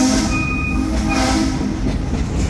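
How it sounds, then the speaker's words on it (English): The Frisco Dollar Line steam train at Silver Dollar City rumbles steadily nearby while its whistle gives a couple of brief, thin toots over the constant rolling noise. "Hey, Ichabod, can you give us three toots on that whistle, please?"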